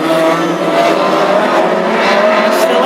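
Classic hot rod race cars roar around a short oval track in a Scottish Open qualifying heat at Lochgelly, a loud continuous engine drone with tire noise and no break.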